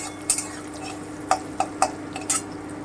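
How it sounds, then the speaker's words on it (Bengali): Chopped onion frying toward light brown in a pan, quiet background sizzle broken by several sharp spoon scrapes and clinks against the metal, no talking. "কুচনো পেঁয়াজটা দিয়ে দিচ্ছি এখানে একটা পেঁয়াজ কুচনো আছে আমার আমি হালকা ব্রাউন করে একটু ভেজে নিচ্ছি"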